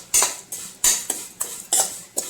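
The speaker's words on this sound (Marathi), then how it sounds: "ह्या पण चांगल्या रंग बदलूपर्यंत चांगल्या भाजून घ्यायच्या" Vermicelli being stirred and roasted in a pan for kheer, seven sharp rhythmic scrapes and clinks of a spoon against metal at a steady pace, close and fairly loud.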